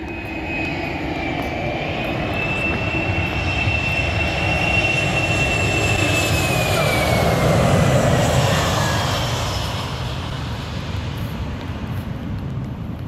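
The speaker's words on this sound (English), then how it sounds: "Oh my gosh, there's a plane coming in." A Delta jet approaches to land at Sangster International Airport in Montego Bay, its engine roar swelling loud and close with a whining tone that rises and fades as it passes, no talk.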